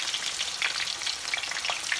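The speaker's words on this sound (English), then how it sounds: "Now, softly, I'm gonna put it in the frying pan again." Plantain slices fry in a pan over medium-high heat, giving a steady, close crackling sizzle with small pops, on its own without voices.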